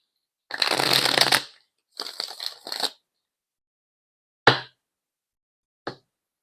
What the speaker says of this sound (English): I'm still shuffling the zodiac deck.